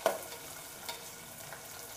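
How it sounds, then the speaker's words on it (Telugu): Thinly sliced onions fry gently in a pan for a ridge gourd masala curry, a soft low sizzle with a couple of light stirring scrapes, quiet and close with no voices. "తర్వాత సన్నగా తరిగి పెట్టుకున్న ఉల్లిపాయ ముక్కలు, కొంచెం వేగనిద్దాము"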